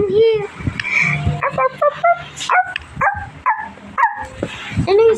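Sprinkles the dog gives a run of close, sharp barks and high yips with a few whimpers, while a voice chatters alongside.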